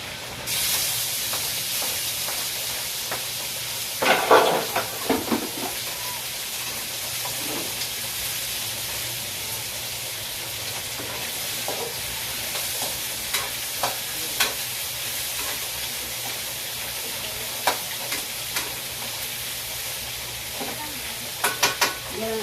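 Garlic, onion and tomato sauté in a pan with a steady, hissing sizzle throughout, broken by scattered clinks and scrapes of stirring, close up and with no talking.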